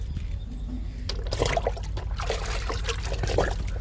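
Liquid fertilizer is poured onto a pink chukkamalle plant, a close, steady trickle that begins after a second of near quiet and runs on to the end.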